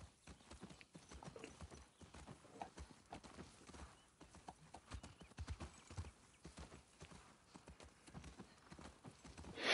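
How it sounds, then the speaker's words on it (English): Horse hooves clip-clop steadily while riding in the video game The Last of Us Part II, a close, uneven trotting rhythm throughout with a brief whinny, under light conversation. "Can't even ride my horse straight"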